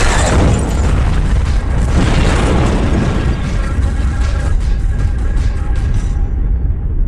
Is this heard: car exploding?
yes